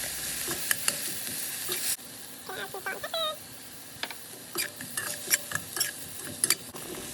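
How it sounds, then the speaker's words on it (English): Garlic sizzles in a pan with a soft, steady frying hiss, broken by clinks and scrapes of a utensil stirring against the pan, while a person talks at times. "Now I'm going to add my garlic."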